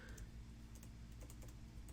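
Quiet, rapid keystrokes on a computer keyboard, soft and close over a low steady hum.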